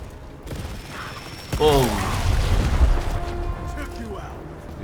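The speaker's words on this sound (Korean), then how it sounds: "폭발 사격을 성공을 시키네" An explosive shot blast in the game Gears Tactics: a sudden loud boom about a second and a half in, followed by a rumbling roar that fades over a couple of seconds.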